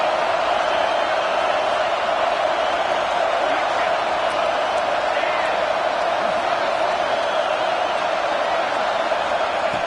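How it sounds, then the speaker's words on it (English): Football stadium crowd at a Texas vs Oregon State game, a steady loud roar of cheering fans that holds for the whole stretch, with a commentator talking over it. "the crowd coming to life here, trying to help this defense down in the red zone"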